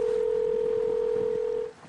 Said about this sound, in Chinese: 拨通了山东老家的号码